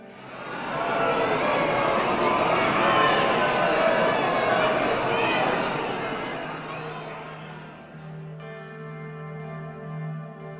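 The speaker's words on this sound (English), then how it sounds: "I can hear the crowd." Crowd noise from the video game Suzerain, an assembled mob of thousands yelling insults in a square: a dense wash of many voices chattering and shouting, heard as if from behind a window, fading after several seconds into quieter tones.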